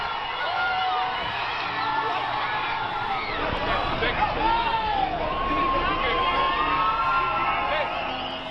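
A crowd at a street protest cheering and shouting, with whoops and overlapping raised voices forming a loud, continuous roar of excited people close by.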